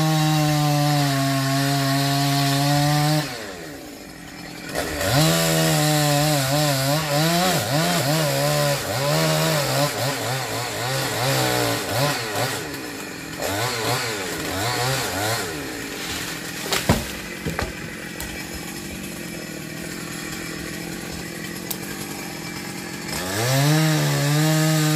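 A chainsaw cuts through a thick branch of a rain tree. The engine runs loud and close for the whole stretch, rising and falling in pitch as the blade bogs into the tough wood and revs again, with no voices.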